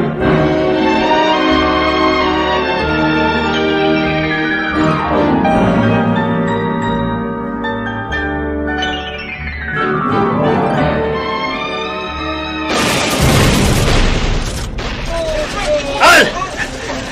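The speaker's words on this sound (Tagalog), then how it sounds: "Kanina pa tayo nagpapalitan ng putok." Gunfire exchange in a Filipino radio drama, arriving as a loud dense burst of shots and crashes near the end after a stretch of music and sound effects.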